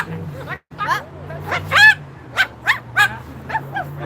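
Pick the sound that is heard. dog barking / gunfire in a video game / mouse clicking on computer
dog barking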